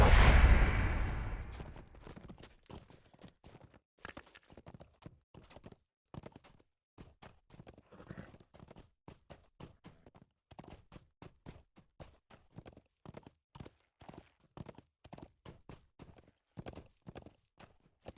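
War steed hooves in the Lord of the Rings Online game, a steady rhythmic clip-clop of galloping hoofbeats that runs the whole way through after a louder opening thump, with no talking.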